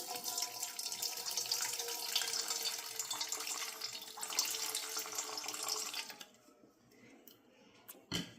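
Water runs steadily from a tap in a home kitchen, a loud continuous splashing rush that suddenly shuts off, leaving near silence and a faint click or two.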